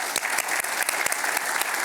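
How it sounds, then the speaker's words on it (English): An audience at an investor conference applauds an author after his book talk. The clapping is full, even and sustained, close and fairly loud, with no speech over it. "I want to give a round of applause to Tim."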